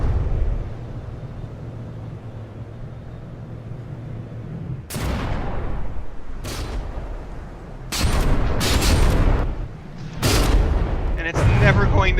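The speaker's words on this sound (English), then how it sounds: "Are you really shooting up here at the mast?" Heavy naval guns fire in a frigate battle between the Manstein and the Reiterpallasch in the game From The Depths. Booming shots come in irregular bursts, some close together, under a steady low hum, with a voice talking between them.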